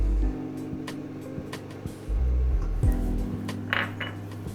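Spoon stirring spices with water in a pan over medium heat, giving scraping and metallic clinks amid a steady low hum, with a louder clatter near the middle and a brief sizzle-like burst toward the end.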